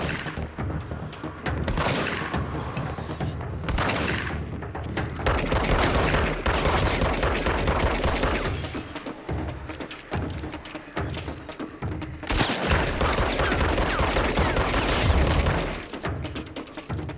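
Sustained automatic gunfire from the video game Control, rapid bursts of shots with heavy booms and impacts, loud and close, continuing in waves for the whole stretch with brief gaps between volleys.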